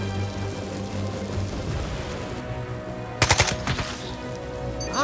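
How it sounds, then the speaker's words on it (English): Gunfire in the tactical video game Jagged Alliance 3: a steady droning game background, then a loud, close burst of rapid automatic shots with a few trailing cracks. "I am really getting better at the shooting thing!"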